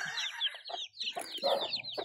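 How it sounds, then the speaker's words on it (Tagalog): Farm chickens cluck and chatter in quick, busy bursts close by, a few calls overlapping with short gaps between them. "Tawag na ko ang manok ko"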